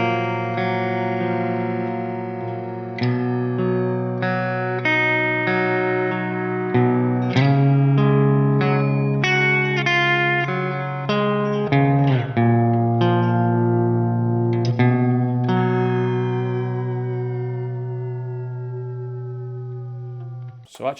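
Electric guitar run through a Boss SY-200 synth pedal on a filter setting with a touch of reverb, sustained chords and single notes ringing with a swept synthetic tone, fairly loud and continuous for about twenty seconds, ending on a faint tail.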